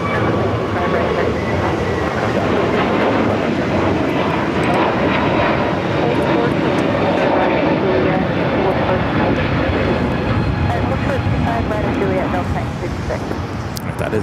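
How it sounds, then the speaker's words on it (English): Boeing 757-300 jet airliner of United, arriving from Chicago O'Hare at Los Angeles airport, a steady loud broadband engine roar sustained throughout, with a voice talking over it. "That is the United 757-300."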